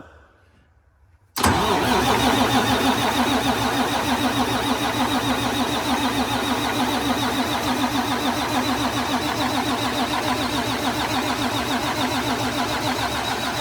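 A PDI performance Detroit diesel engine fires up for its first start after a short quiet pause, then settles into a loud, steady, rough idle that runs on without a break.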